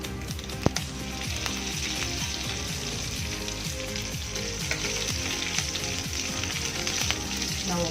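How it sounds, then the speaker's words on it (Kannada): Curry leaves crackle and sizzle in hot oil over low flame, added after mustard seeds for tempering a radish sambar; a dense, continuous frying hiss with scattered pops, close and steady throughout, with no talk. "ಈಗ ಕರಿಬೇವು ಹಾಕೋಣ."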